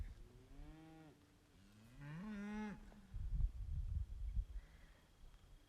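Two drawn-out cow moos on a ranch, close and clear, one after the other, followed by low rumbling and thumping noises.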